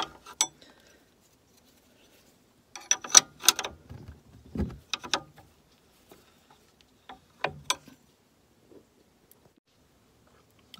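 A 16mm (5/8) wrench working a bolt on a 2007-2013 Mini Cooper S R56 during camber plate installation gives scattered metallic clicks and ratcheting taps in short bursts, close and moderately loud, with quiet gaps between.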